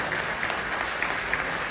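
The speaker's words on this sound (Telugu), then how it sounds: "2 చేతులు పైకెత్తి గట్టిగా చప్పట్లు కొట్టండి చాలు." An audience at a live comedy and music show in Qatar clapping loudly, a dense, continuous burst of applause filling the hall.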